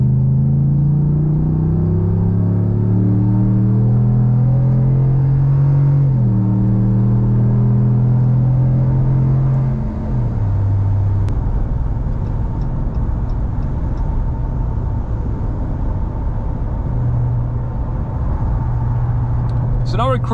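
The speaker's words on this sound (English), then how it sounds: "I'm gonna be quiet now so you can hear the droning noise and the acceleration." Ram Rebel pickup on 35-inch tires heard from inside the cab, a steady low engine drone that climbs through rising gear-like tones as it accelerates, continuous and fairly loud with no talking.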